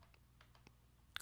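Faint computer mouse clicks in a quiet room, several soft isolated taps followed by a louder, sharper click burst at the end, no talking.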